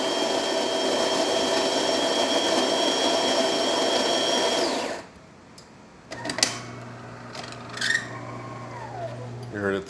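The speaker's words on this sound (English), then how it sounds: "So I noticed the transmission is squeaky, which means that it needs to be lubricated." A DeLonghi Magnifica espresso machine with a squeaky transmission runs with a loud, steady mechanical whine for about five seconds, then stops. Quieter clicks and a rising squeak follow amid softer machine noise, and a voice speaks over it.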